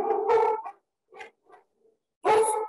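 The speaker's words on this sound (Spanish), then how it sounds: "Gajes de tener perros." A dog barks and whimpers indoors in short bursts at close range, loud yelps at the start and end with softer whines between quiet gaps.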